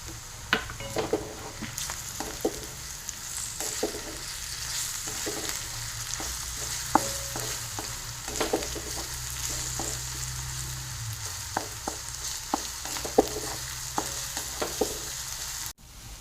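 Ginger garlic paste fries with onions in a pan, giving a steady, even sizzle under repeated clicks and scrapes of stirring for the whole stretch, with a brief knock at the end.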